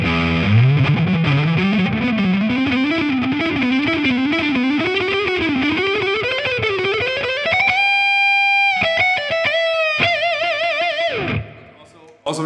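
Distorted electric guitar shred on a Gibson or Epiphone Slash model: fast bending, vibrato-laden lead lines climbing over a sustained chord, then long held notes with wide vibrato and a few choppy stops before cutting off.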